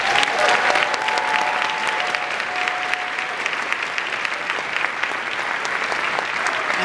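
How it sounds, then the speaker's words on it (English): Festival audience gives a big, loud, sustained round of applause for dancers and judges, dense steady clapping lasting several seconds with a faint crowd hum and a few voices beneath. "a big round of applause."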